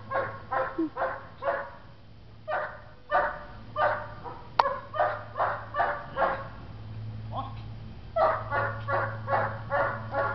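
A one-year-old puppy barks repeatedly in short bursts in a kennel, some clustered and some spaced apart, with occasional whimpers and a steady low hum underneath.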